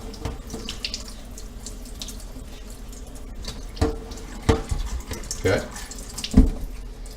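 Tap water runs into a kitchen sink as raw pork is rinsed, a steady hiss of flowing water broken by a few louder splashes toward the end.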